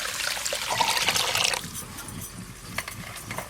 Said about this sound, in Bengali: 2 রকম ডাল আর এখানে গোবিন্দভোগ চাল নিয়েছি, সব একসঙ্গে ভালো করে ধুয়ে নেব